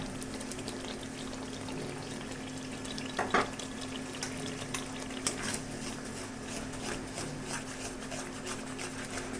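Beaten sour yogurt going into a hot pan in a Bengali home kitchen, giving a steady low sizzle and bubbling throughout, with a brief louder splash or scrape near the middle; no talking.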